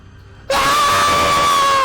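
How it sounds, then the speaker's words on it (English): A loud, sustained scream from someone falling into a pit inside a chamber, bursting in abruptly after near-silence and holding steady at full strength to the end. "Everyone hears this scream."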